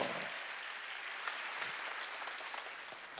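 Steady applause from a church congregation at a Wednesday worship service, a dense even clatter of clapping that holds at moderate level throughout.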